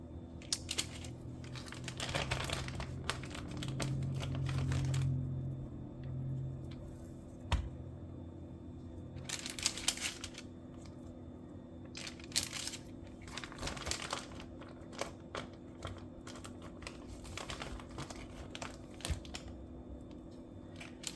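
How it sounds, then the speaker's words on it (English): Strips of bacon are laid one by one onto parchment paper lining a baking sheet, giving bursts of crisp crinkling and rustling with pauses between and a steady low hum underneath. "I'm going to line my bacon on this parchment paper."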